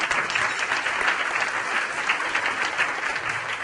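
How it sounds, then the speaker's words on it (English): A seated audience at a community event gives sustained applause, a dense, even patter of many hands clapping at once throughout, near and steady. "Give him a round of applause."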